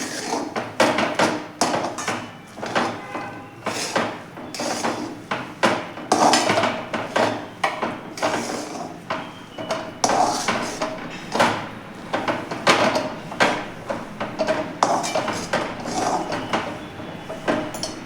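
Ground peanuts and sesame stirred briskly together for til-gud laddoo, a steady run of close clattering spoon-and-bowl knocks in quick irregular rhythm, with no talk.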